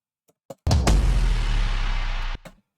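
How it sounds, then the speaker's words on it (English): A heavy downshifter sound effect from a Mode Step sample pack: a short click, then a loud, dense, sustained roar with deep low rumble lasting under two seconds before cutting off abruptly, followed by a brief tail. "So it's just downshifter actually from mode step sample pack"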